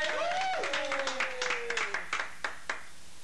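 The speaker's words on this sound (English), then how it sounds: "let's hear a big round of applause for Gaspar the Magician" Audience applause for a stage magician at a variety show, scattered claps building then thinning out, with a gliding whistle-like tone and some crowd noise over it, no talking.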